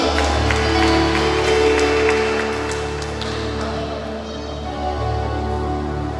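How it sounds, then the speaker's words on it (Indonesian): Church congregation clapping during a service, a sustained mass of clapping mixed with steady droning instrumental tones underneath, loud and continuous. "Tepuk tangan buat Tuhan."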